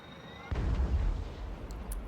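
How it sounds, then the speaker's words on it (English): A Hell Cannon in Total War: Warhammer 3 fires at a wall, a single deep, booming artillery blast that hits suddenly after a quiet moment and rumbles away, with faint clinks following. "Hell Cannon, I want you to break this wall."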